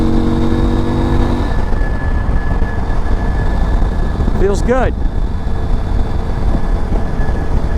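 A 2023 CFMOTO Ibex 800 T adventure motorcycle cruises on a highway at around 75, its engine droning steadily under heavy wind roar, with a rider speaking briefly midway.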